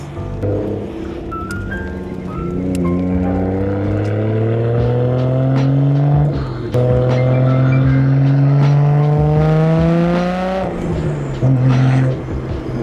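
A Nissan Skyline R32 GT-R engine revs up steadily in a long climb toward 4,000 RPM, with two brief dips before the pitch rises again. It sounds loud and close, with no talking.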